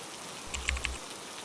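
Rain falls as a soft, steady hiss, with a brief cluster of a few louder drop taps near the middle of a very short stretch.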